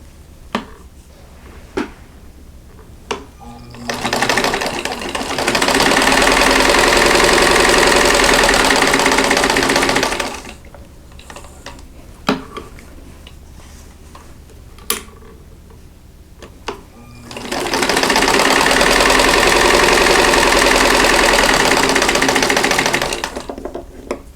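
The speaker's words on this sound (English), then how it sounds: "I'm going to sew a 1/4 inch away from both sides of this drawn line" A sewing machine stitches quilt half square triangles in two loud, sustained runs of several seconds each, separated by quiet gaps with sharp clicks of handling the fabric.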